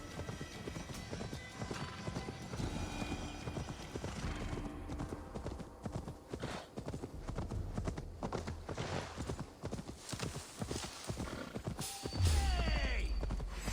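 A horse gallops in Assassin's Creed Valhalla, its rapid, steady hoofbeats drumming close and loud for the whole stretch, with a faint snort near the end and a brief voice underneath.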